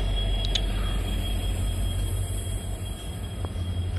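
A WDP4 diesel locomotive pulls the Talaguppa–KSR Bengaluru Intercity Express into Shivamogga Town station, its steady low rumble and hum filling the scene, with a couple of brief high squeals and clanks.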